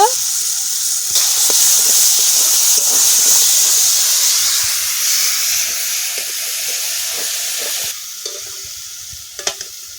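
Spice paste fries in oil with a splash of water for a lote fish curry, giving off a loud, steady hiss and sizzle that fades after about eight seconds. A few light utensil clinks follow near the end.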